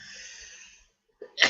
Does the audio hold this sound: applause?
no